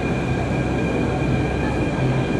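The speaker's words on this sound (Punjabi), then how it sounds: "ਲਓ ਜੀ, ਮੈਟਰੋ ਵੀ ਆ ਗਿਆ ਸਾਡੀ" A Delhi metro train stands at a station, its steady rumble and electrical whine loud and continuous, with a faint high hum over the top and no voices.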